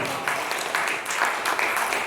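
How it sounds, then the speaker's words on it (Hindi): Audience applause following a Hindi poet's spirited poetry recitation, a short burst of steady clapping from a gathered crowd, fairly close and even in loudness throughout. "जिनकी कामना है वही ताली बजाएंगे इसमें।"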